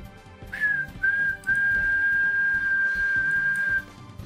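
A referee's whistle sounds in the Inazuma Eleven 2 soccer video game as a short toot followed by a long, steady shrill blast over quiet background game music.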